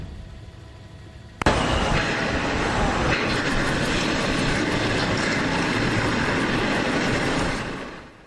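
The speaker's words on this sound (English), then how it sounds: "that is the sound of another section of Hawaii's largest outdoor arena crashing down" A section of Aloha Stadium, Hawaii's largest outdoor arena, crashes down during demolition: a sudden loud impact followed by a sustained roaring rumble of collapsing debris that fades away at the end.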